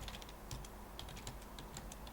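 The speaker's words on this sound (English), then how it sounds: "we're going to go ahead and type something in" Quiet, quick keystrokes tap out on a computer keyboard in an irregular patter of short clicks, heard faintly and close with no talking.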